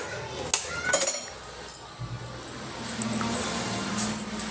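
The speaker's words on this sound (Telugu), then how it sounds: "అన్నీ వేసుకొని బాగా ఫ్రై చేసుకోవాలా" Chopped vegetables, including potatoes and beans, being added to a pan and fried for veg biryani, with a couple of metallic clanks and clinks followed by a low, steady sizzle, close by and with no talking.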